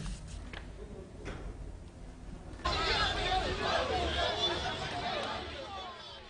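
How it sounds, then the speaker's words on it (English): Crowd of supporters at a campaign rally in Uganda, a steady hubbub of voices that swells into loud cheering and chanting midway and carries on to the end. "Supporters marched alongside him, chanting and celebrating his arrival as he made stops to address residents"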